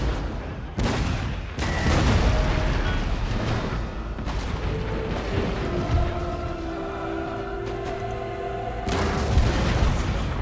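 Video game cannon fire booms out in heavy blasts, several loud volleys with rumbling echoes, amid a continuous din of battle and faint tonal music.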